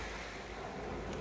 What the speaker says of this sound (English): hopefully you can hear the waves in the background.